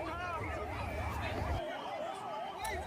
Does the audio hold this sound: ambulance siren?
yes